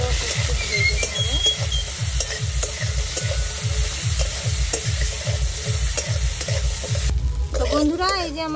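Shrimp legs and cut pieces of shrimp fry in hot oil with a steady, loud sizzle, broken by regular rhythmic scraping strokes of stirring; the stirring stops near the end and the sizzle continues alone.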